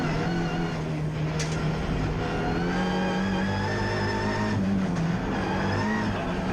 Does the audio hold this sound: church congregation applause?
no